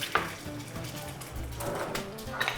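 An egg cooks in oil in a non-stick pan, giving a steady close sizzle with a few light clinks of utensils against the pan.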